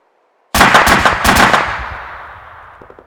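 A 7.62 PKMT coaxial machine gun on an armored vehicle in ARMA 2 fires one short, sharp burst of rapid rounds that fades into a long echoing tail.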